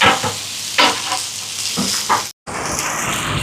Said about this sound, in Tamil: இது எல்லாத்தையும் நல்லா கலந்து விடுவோம். இதில் புதினா இலை, மல்லி இலை கலந்துடுவோம்.